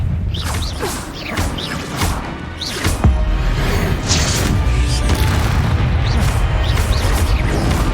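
Confringo fire spells burst in Hogwarts Legacy combat, a string of loud booming blasts and crashes with whooshing casts in between, close and continuous with no talk.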